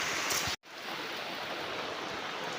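Rain falls steadily onto an umbrella while someone walks outdoors, making a soft, even hiss that cuts out for a split second near the start and then carries on unbroken.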